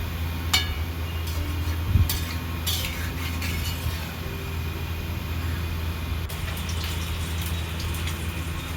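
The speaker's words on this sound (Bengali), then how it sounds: "এবার দিয়ে দেবো জল এবং ফুটতে দেবো।" Water poured into a pan of cabbage, potatoes and spices for a fish head curry: a steady hiss and gurgle with a few sharp metallic clinks near the start, close up and without talk.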